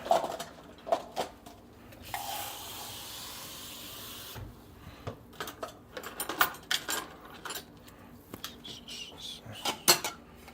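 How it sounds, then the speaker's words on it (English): A plate, a cup of water and brushes are gathered in a kitchen: scattered clinks and clatters of dishes and utensils, some close and some further off, with a stretch of running water or hiss in between. "I'm just gonna go grab a plate and a cup of water and brushes."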